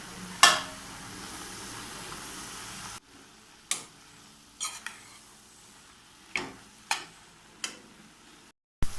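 Watermelon rind halwa cooks in a pot over a medium flame, giving a quiet background sizzle broken by several sharp ticks and knocks at irregular intervals, with no talk.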